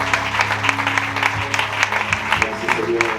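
A church congregation applauds during a Sunday service, a dense, steady clapping from many hands mixed with voices.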